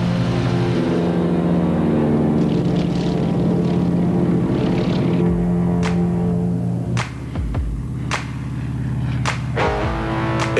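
A 1950s propeller-driven fighter plane in air combat drones loudly and steadily, its engine tone holding then shifting pitch, with a few sharp clicks and thuds breaking in toward the end.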